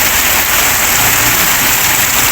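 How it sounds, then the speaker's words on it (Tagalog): A constant, loud roar of heavy rainfall, thick and unbroken, with a faint low rumble underneath. "Ang lakas ng ulan."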